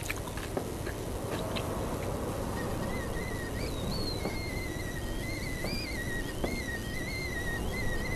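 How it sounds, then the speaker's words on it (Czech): A kettle whistles inside a horror video game, a wavering high tone rising and gliding in pitch, steady and fairly clear over a dense low rumble of background ambience, with no talking. "tady píská konvice"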